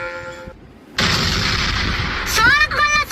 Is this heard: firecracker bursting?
yes